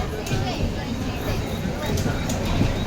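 A Mumbai local train pulls out of Thane station toward Panvel: a steady, close rolling rumble with a busy crowd murmur running through it, and no clear speech.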